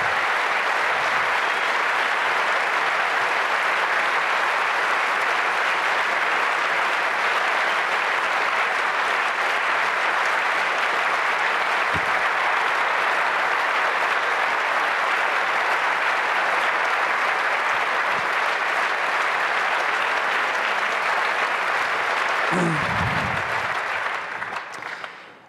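Loud, sustained audience applause in a large hall at the 22C3 hacker congress closing event, dense and even clapping from a big crowd that carries on for over twenty seconds before cutting off.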